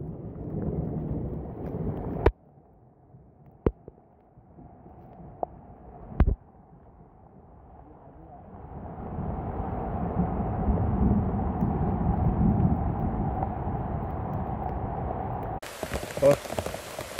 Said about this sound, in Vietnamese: Bây giờ mưa quá